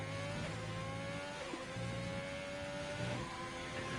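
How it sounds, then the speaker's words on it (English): A Ferrari Formula 1 engine in an Alfa Romeo car in the F1 2020 racing video game whines at high pitch, its tone rising and dropping through gear changes, heard faintly and steadily with no speech. "hear that Ferrari engine purr from the back of the Alfa Romeo car"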